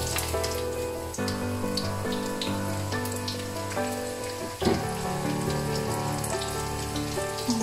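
Mustard seeds and onion sizzle in hot sesame oil for a Jaffna-style fish curry with mango, a dense continuous crackle up close with a sharper burst midway as more goes into the pan.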